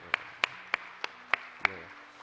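Six sharp, evenly spaced claps ring out in a church hall during a New Year's Eve service, each a crisp isolated smack rather than a full crowd ovation, with faint low murmuring between them.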